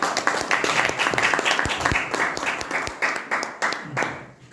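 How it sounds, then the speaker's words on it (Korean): Lecture audience claps to welcome a professor, a moderate and somewhat sparse round of applause with individual claps standing out, fading slightly toward the end. "오늘 저 이남주 교수님을 여러분의 뜨거운 박수로 맞아주십시오."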